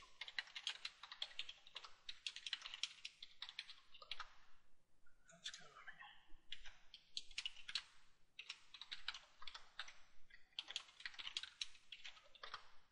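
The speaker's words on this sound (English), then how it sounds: "Enter our new password" Rapid bursts of keystrokes on a computer keyboard while a password is entered, clicking in quick uneven runs with a short pause midway, close and fairly quiet.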